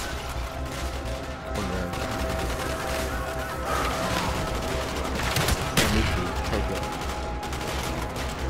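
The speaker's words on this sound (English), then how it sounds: "Use my grenade launcher." Dense game combat in Call of Duty: Black Ops, with a grenade launcher firing amid continuous gunfire and bursts across a street fight, loud and sustained with a sharper blast near the middle; a voice speaks briefly over it.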